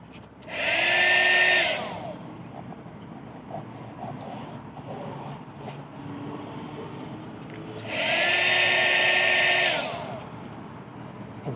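Heat gun warming cargo area protection film on a 2021+ Bronco, two loud blowing whooshes of about a second or two each, separated by quieter rubbing and handling sounds.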